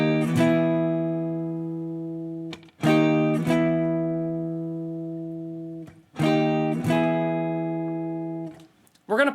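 Electric guitar plays a song intro: repeated pairs of sharp chord stabs, each ringing out and decaying in a steady rhythm, loud and close with no talking.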